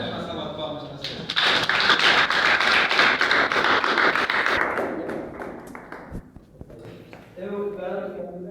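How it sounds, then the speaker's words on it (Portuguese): A colloquium audience breaks into a round of applause, a dense burst of clapping that lasts about five seconds before fading. Speech can be heard just before and just after it. "Uma salva de palmas para você."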